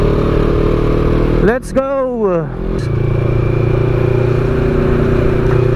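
A CFMoto NK400 big bike rumbles close by on the road, a steady engine drone with one rising and falling rev sweep while the rider talks briefly over it.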